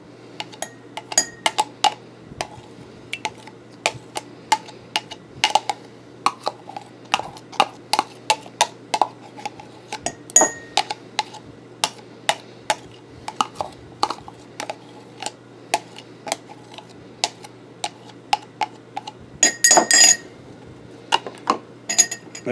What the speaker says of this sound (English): I'm going to scrape it all out because it's so thick